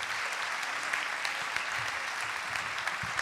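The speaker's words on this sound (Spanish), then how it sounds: "Fuerte el aplauso para él, por favor." An audience applauding a senator from Colombia arriving on stage at a talk, steady dense clapping throughout with a few louder individual claps.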